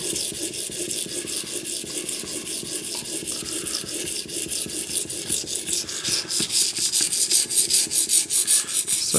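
A knife blade drawn repeatedly across the stone of an Edge Pro Apex sharpening kit, giving a steady, close rasping scrape in even back-and-forth strokes that grow slightly louder toward the end.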